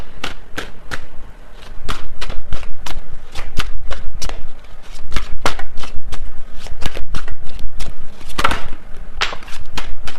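A deck of tarot cards is shuffled close up in rapid, loud riffling bursts, repeated in quick rhythmic waves with brief pauses between them.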